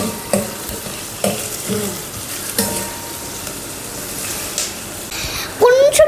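Onions, green chilies and cloves frying in a pan as they are stirred, with steady sizzling, several distinct scraping strokes of the spoon, and a rising tonal squeak near the end.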